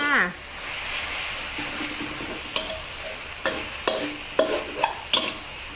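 Glass noodles with minced pork and basil stir-fried over the highest heat, a steady close sizzle broken by sharp scraping clacks of the spatula in the pan, growing more frequent toward the end.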